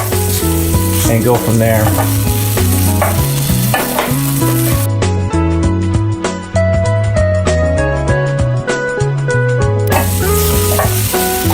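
Fresh green beans sauté with onions in an oiled pan, giving a steady, close sizzle that runs under background music while a voice speaks briefly.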